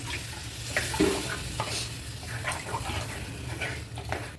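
Water poured into a pan of potato kara kuzhambu, a tangy tamarind gravy, making a steady low wash and sizzle with a few soft clinks, close and moderately loud, with no talking.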